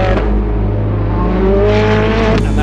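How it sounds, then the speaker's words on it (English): An emerald green Porsche race car at full throttle on the Mistral straight at Circuit Paul Ricard, a loud, steady, close engine howl with rising pitch and a brief shift near the end. "that emerald green Porsche reaching the end of the Mistral straight now"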